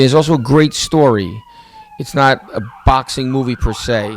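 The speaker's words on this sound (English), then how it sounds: "Sorry about the sirens." Emergency vehicle sirens wail outside, with a faint sweeping tone under close, steady talk that dominates throughout.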